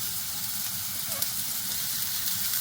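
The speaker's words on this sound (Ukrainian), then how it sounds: "І кладемо цибульку на розогріту сковорідку" Steady crackling sizzle of onion in a hot frying pan over medium heat, an even hiss throughout with no voices.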